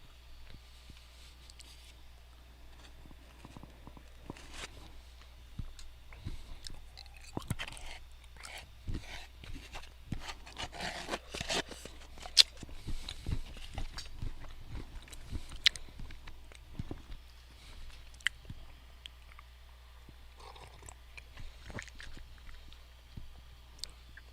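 Chewing and slurping are picked up close on an open microphone, with irregular wet clicks and smacks scattered through a long stretch over a low steady hum, and nobody speaks.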